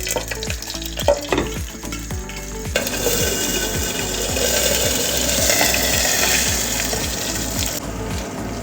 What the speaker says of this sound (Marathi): तेल थोडंसं जिरा मोहरी टाकूया